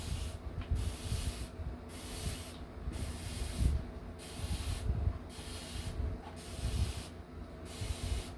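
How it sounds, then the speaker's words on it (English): A handheld sprayer mists water onto the soil of a Rex Begonia cutting, giving steady rhythmic hissing bursts about once a second, fairly soft and close, with no talking. "Let me get my other sprayer. Actually, I gotta be careful with that, but I can spray this."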